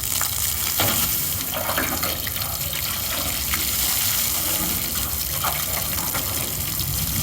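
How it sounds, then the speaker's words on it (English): Strong, steady gush of water rinsing aluminum brightener off the hull of an aluminum jon boat, a loud continuous spray that stays even throughout with no talking. "All right, now we're gonna rinse it."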